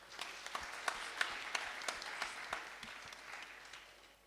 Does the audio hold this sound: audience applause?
yes